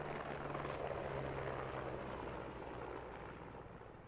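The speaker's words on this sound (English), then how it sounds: "Enemy chopper northeast" A military helicopter in Squad thuds and whines as a steady rotor drone, loud and continuous, fading slightly toward the end.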